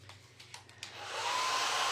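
Hair dryer used for drying paint while crafting a primitive patriotic wagon from Dollar Tree wooden pieces, clicking on after a few handling taps and then blowing in a steady, close whoosh.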